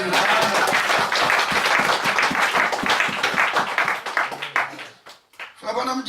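A congregation at a prayer vigil breaks into dense, sustained applause that fills the room, loud and close, thinning out near the end as a voice starts speaking over the scattered last claps.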